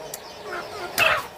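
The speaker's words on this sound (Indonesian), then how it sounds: "Ternyata udah ditunggu sama ayam-ayamnya tuh, super sekali nih ayam-ayamnya ya." Backyard chickens clucking while waiting to be fed, a couple of short nearby clucks, the second louder and higher, over faint background noise.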